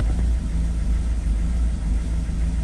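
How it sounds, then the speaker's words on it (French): A Citroën Berlingo DV6 diesel engine idling roughly and sputtering, a steady, close low rumble with slight uneven pulses throughout. "le moteur il cafouille un petit peu"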